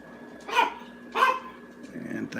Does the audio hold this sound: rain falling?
no